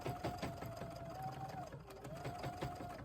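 A sewing machine stitches binding strips onto a fabric bag, its motor whirring steadily with a rapid needle rhythm that dips briefly in pitch midway before picking back up, close and continuous.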